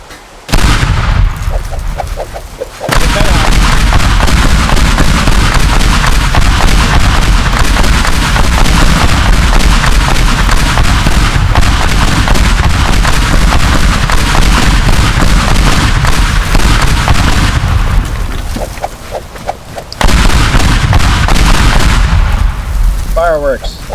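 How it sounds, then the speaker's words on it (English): Bombs going off in the physics sandbox game Teardown, a near-continuous loud roar of blasts and destruction lasting about seventeen seconds, with quieter gaps at the start and near the end. "before I got violently distracted with the bombs that we have"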